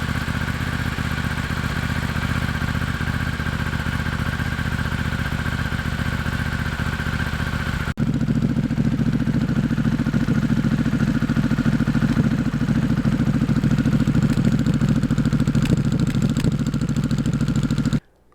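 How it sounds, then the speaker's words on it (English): A Harley-Davidson Pan America motorcycle fitted with a Vance and Hines aftermarket exhaust idles steadily and loudly up close, with a low rumbling pulse that shifts slightly partway through before cutting off at the end. "this new exhaust is a lot louder than stock"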